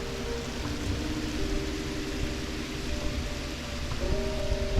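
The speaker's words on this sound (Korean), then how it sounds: "이거 이쁜데 비 오는 소리." Steady, dense rain hiss fills the background, with a low droning hum running underneath and no voices.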